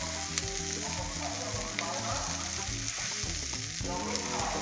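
Green tomatoes frying in a pan, a steady, dense sizzle with occasional stirring scrapes, heard close and continuously with no one speaking.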